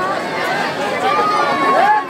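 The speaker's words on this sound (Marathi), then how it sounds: "अशा प्रकारे पाहू शकता ही गर्दी मोठ्या संख्येने आहे." Crowd of people, many of them children, gathered outside a haunted house display in Kolhapur, a steady loud babble of mixed voices and chatter filling the whole stretch without pause.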